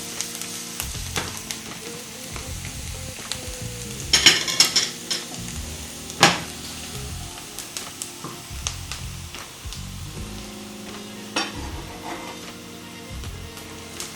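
Meat sizzles and fries in a pan for Ethiopian firfir with garlic, a steady close crackle broken by the scrape and clink of stirring utensils at irregular moments.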